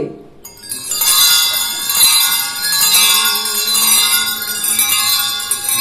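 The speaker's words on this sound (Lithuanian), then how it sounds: "Klaipėdos varpai." Church bells in Klaipėda ring loudly and continuously, overlapping metallic tones sustaining after a brief quiet start.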